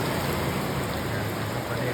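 Heavy rain falls in a dense, unbroken roar, loud and steady throughout.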